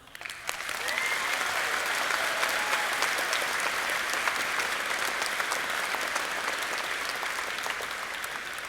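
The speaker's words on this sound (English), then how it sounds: "I think that, in and of itself, deserves one heck of a round of applause." A high school graduation crowd breaks into loud, sustained applause, a dense wash of clapping that swells quickly and holds steady for several seconds.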